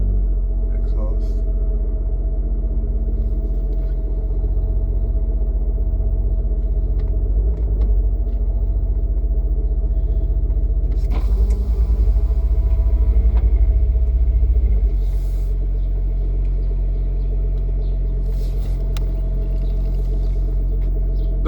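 A deep, steady car exhaust rumble from a Record Monza exhaust idles throughout, swelling briefly midway, with faint voices and small clatters in the background.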